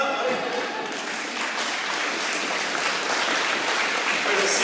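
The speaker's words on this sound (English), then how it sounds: "If he does show up, let's give him a round of applause." A room full of people claps steadily at a school spring athletic awards ceremony as a student is called up, dense sustained applause throughout with no voices on top.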